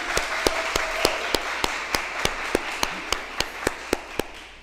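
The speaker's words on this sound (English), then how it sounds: "Let's give them another round of applause" Audience claps for a fourth grade class at a school step-up celebration, heard as a run of sharp, evenly spaced claps in a steady rhythm over a quiet room.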